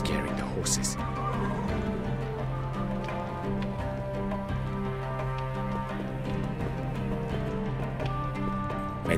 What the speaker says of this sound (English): I'm scaring the horses